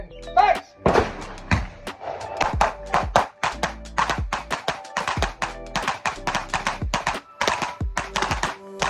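Handguns fire during a concealed-carry training drill as shooters draw and engage targets, producing dozens of sharp, rapid overlapping shots from several shooters in uneven bursts, loud and close.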